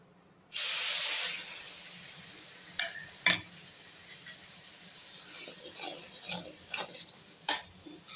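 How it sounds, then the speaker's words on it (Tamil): Butter in a pan for tempering spices bursts into a loud hiss when something hits it, then settles into a quieter sizzle. Scattered pops and crackles follow over several seconds. "இப்போ நம்ம பாண்டியில் பட்டர் போட்டு தாளிக்கலாம்"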